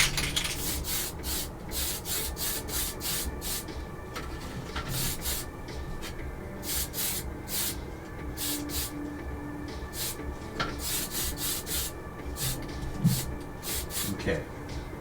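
Short bursts from a spray can of primer hissing inside a model M2A3 Bradley vehicle, repeated in quick rhythmic pulses with brief pauses between, close to the microphone.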